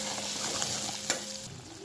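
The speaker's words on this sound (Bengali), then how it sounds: "এবার একটু নাড়াচাড়া করে নেব।" A ground spice paste being stirred into rohu fish curry in a pan, a steady close sizzle with scraping stirs and one brief louder clink near the end.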